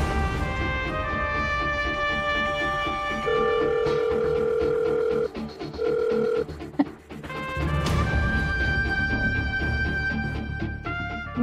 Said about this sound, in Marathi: थांब, मी सत्यालाच फोन लावून विचारते.